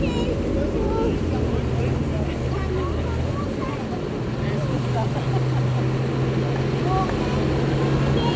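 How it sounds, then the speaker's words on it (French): Restored military vehicle engines idling outdoors, a steady low rumbling drone with wind noise, continuous and fairly loud, while someone talks over it. "vous entendez les moteurs. C'est absolument magnifique comme ça tourne"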